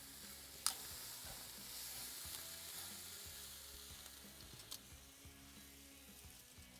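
Tri tip sizzling over the fire inside a Pit Barrel cooker, a steady broad crackle and hiss with a low hum underneath, broken by a couple of sharp pops, with no talking.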